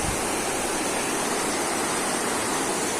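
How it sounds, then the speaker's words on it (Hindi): Loud, continuous roar of the fast-flowing, muddy brown Ramganga river swollen by three to four days of rain, a dense unbroken rush with no talking. "लगातार बारिश से बहाव बहुत तेज हो चुका है।"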